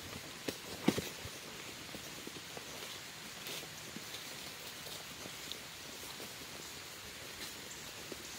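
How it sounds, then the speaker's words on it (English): Light rain pattering steadily while riding a 16-year-old APHA mare outdoors, a soft, even hiss of drops with a few faint rustles and no voices. "It's really starting to rain a little bit now."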